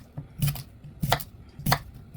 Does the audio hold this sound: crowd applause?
no